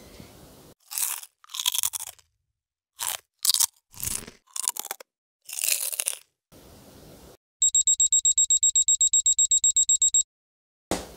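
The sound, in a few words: kitchen timer alarm going off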